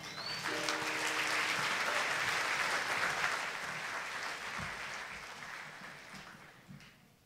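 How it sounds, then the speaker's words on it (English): Sustained audience applause for a teen center choir at a luncheon, a dense steady wash of clapping from a large crowd that holds for several seconds and slowly tapers off. "Give them a round of applause."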